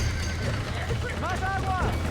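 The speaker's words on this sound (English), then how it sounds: "Now get the horses out!" Horses in the Red Dead Redemption video game, hooves clopping under shouting voices, with a horse's whinny rising clearly toward the end over a low rumbling background.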